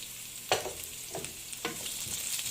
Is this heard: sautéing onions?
yes